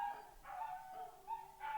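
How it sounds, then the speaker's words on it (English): Dogs bark faintly in a few short bursts, distant and spaced apart, with no voices over them. "the dogs be barking, sorry."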